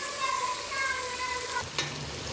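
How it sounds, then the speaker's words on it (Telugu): Lentils sizzle and fry in hot oil with a steady crackling hiss, with a brief stirring clink near the end. "ఇప్పుడు దీంట్లో వేసుకొని పప్పును కూడా కొద్దిసేపు నూనెలో మగ్గనివ్వాలండి"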